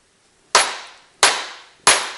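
Dead blow hammer striking a diesel turbocharger housing clamped in a vise, three sharp separate knocks about two-thirds of a second apart, each with a short decaying ring, loud and close.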